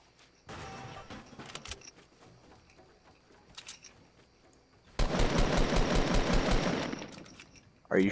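Video game gunfire, with a few scattered shots and bursts early on, then a loud, rapid automatic volley of evenly spaced shots for about two seconds, followed by a sharp final burst.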